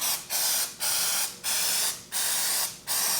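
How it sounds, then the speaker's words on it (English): Five short bursts of aerosol chain cleaner spray hiss in a regular rhythm, each about half a second long with brief pauses between, close and fairly quiet. "it's actually chain cleaner, and spray off the mating surface"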